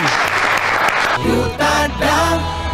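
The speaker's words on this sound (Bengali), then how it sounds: "জোরে হাততালি" An audience at a college quiz and game show claps loudly for about a second, then a voice and other sounds take over for the rest of the moment.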